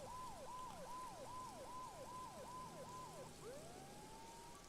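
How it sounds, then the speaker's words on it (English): Police sirens wail from the Max Payne video game, a rapid repeating yelp cycling about eight times before shifting into a slower rising wail, loud and steady over background game ambience. "Mona must have heard the sirens too."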